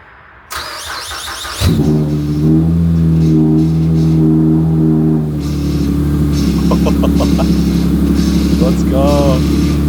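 A boosted Acura TL-S cranks briefly and fires up, then settles into a loud, steady idle with a slightly uneven tone, close by, as a voice talks over it.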